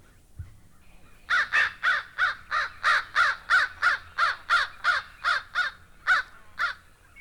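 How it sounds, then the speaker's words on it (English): A crow caws repeatedly in a steady run of about fifteen harsh, evenly spaced calls, fairly close and alone against quiet background. "Old Mr. Crow, cawing away."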